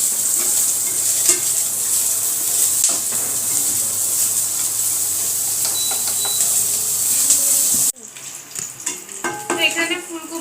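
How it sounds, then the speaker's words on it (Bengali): Cauliflower frying lightly in a pan with whole spices, a steady close sizzle and crackle throughout that thins out and turns patchier near the end, with no talking. "ফুলকপি, এগুলো দিয়ে একটু হালকা ভেজে নেবো ফুলকপিটা"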